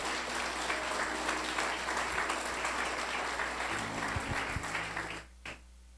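A church congregation applauds during a Portuguese sermon, a broad, steady clapping wash at moderate level that fades out near the end with a few scattered final claps.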